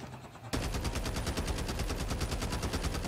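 Rapid automatic gunfire in the Call of Duty Mobile video game bursts in after a brief quiet moment and then rattles on continuously, loud and close, without pause.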